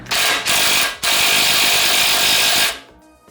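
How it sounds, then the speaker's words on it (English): Loud bursts from a power ratchet tool work the bolt on a Ford Fiesta ST sway bar end link: a short buzzing run, a pause, then a longer whirring run that stops abruptly. "Next, I'm going to try to get the bolt off of the sway bar end link."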